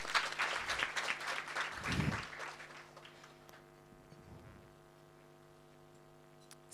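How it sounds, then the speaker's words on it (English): Audience applause at a Women In The Red event greets one of the youngest finalists: a burst of clapping for about three seconds that fades out, leaving a steady electrical hum. "A big warm round of applause for Halima."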